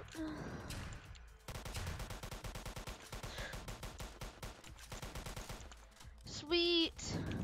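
Rapid bursts of gunfire from several players in the Roblox game Incursion, dense repeated shots with brief pauses, plus a higher electronic tone near the end.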